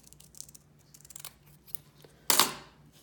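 Scissors snip a small veneer piece during sewing table repair: faint light clicks and rustles, then one sharp, louder close cut near the end.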